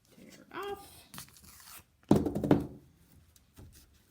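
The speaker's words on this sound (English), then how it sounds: "Just tape it around the back. Bring it down here. Tear it off." Tape is torn off and pressed down on a canvas during a birch tree painting session, a short ripping burst followed by rubbing and faint handling noises at low volume.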